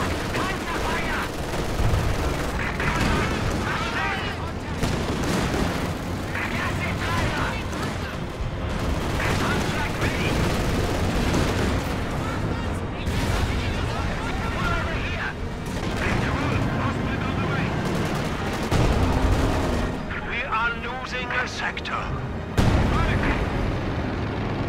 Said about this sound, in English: Red smoke artillery.